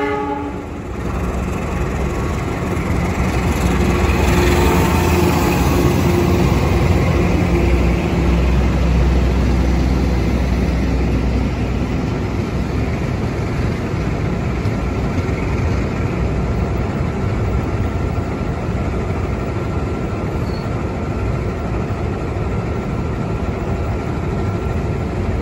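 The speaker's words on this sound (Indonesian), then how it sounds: "Dan di jalur 2 ini persiapan KRL melintas langsung nih." An Indonesian KRL electric commuter train passes straight through the station close by without stopping, a loud, steady roar of wheels and motors filling the whole stretch with no talking.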